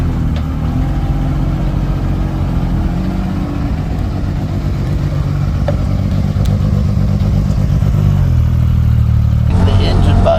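Motorcycle engine revving hard during a wheelie, a loud steady mid-pitched drone held for about ten seconds with a shift in tone near the end, alongside voices talking.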